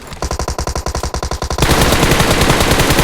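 Automatic gunfire in the PUBG Mobile video game, a fast rhythmic burst of about a dozen loud shots followed by a denser, louder stretch of continuous rapid fire, no voices.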